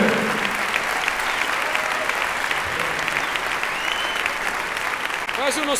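Concert audience at a Christian music show applauding loudly, a thick sustained wall of clapping with faint crowd cheering and a few whistle-like calls near the end.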